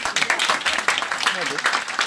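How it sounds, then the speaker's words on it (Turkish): Applause in a loose, crowded burst of claps running steadily through the moment, with voices mixed in under the clapping. "O zaman lütfen bu alkış bana gelsin"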